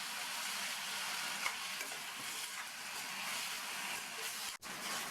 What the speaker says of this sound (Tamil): 200 கிராம் தக்காளி, இது கூட சட்னிக்கு தேவையான அளவு உப்பையும் சேர்த்து வதக்கிக்கலாம்